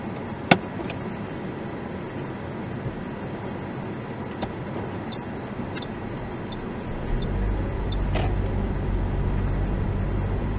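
A learner's car in Harehills, Leeds, during a mock driving test: a steady cabin hum with a few faint clicks, then a deeper low rumble builds after about seven seconds as the engine pulls away, with no talking.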